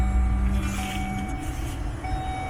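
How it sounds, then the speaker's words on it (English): Car AC blower motor fan running after being repaired, a steady whirring hum with constant tonal whine, heard up close inside the vehicle with no talking. "The fan is working fine."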